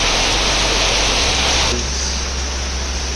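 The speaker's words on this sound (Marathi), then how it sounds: "सो आईज कसला जोराचा पाऊस चालू झाला आहे." Heavy rain pours down in a village setting, a loud dense steady wash of noise close by that fills the whole stretch, with a low constant rumble underneath and no talking.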